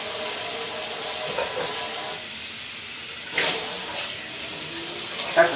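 Dishes are washed by hand under a running kitchen tap, a steady close hiss of water with brief clinks and splashes of handled crockery, no talk over it.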